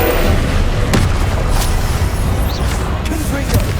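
Fiery spell effects from the Incendio spell in Hogwarts Legacy, a loud rumbling whoosh with several sharp bursts and booms layered over a continuous roaring bed.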